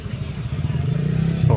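At a riverside parking area by Wawa Dam in Montalban, Rizal, nearby motorcycle engines rumble and rev as vehicles arrive, with a voice talking over the engine noise.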